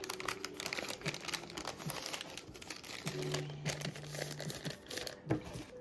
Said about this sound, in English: So I'm just going to fold my bag.